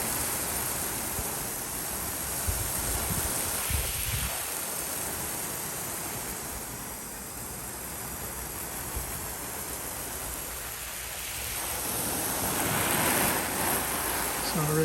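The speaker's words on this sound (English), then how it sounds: "Rinsing the convertible top, you want to make sure it's deliberate." Hose water steadily rinsing the soft convertible top of a 2017 Camaro 2SS 50th Anniversary Edition during a hand wash, a continuous broadband spray that swells and eases as the stream moves across the fabric.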